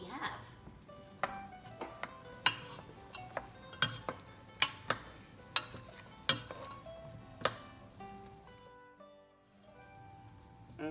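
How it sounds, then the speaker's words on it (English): Sausage and tortellini soup stirred in a pot, a soft bubbling bed broken by about a dozen sharp, regular clinks of a spoon against the pot before falling quiet. "I will give that a stir and see what we have."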